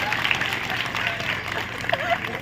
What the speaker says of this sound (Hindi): तालियां पापड़ से कोई ऐसी मत बजाओ, ढंग से बजाओ।